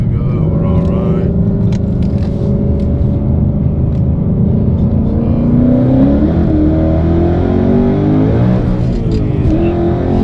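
A 1000bhp Ford Mustang is driven hard through a corner, its engine roaring loud and close with rising and falling revs that sustain throughout.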